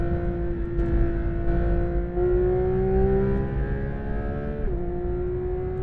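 A Porsche 911 GT3 RS engine pulls hard on a race track, its high steady drone climbing smoothly in pitch and then dipping briefly at a gear change. It sounds loud and continuous from start to finish, with no voices.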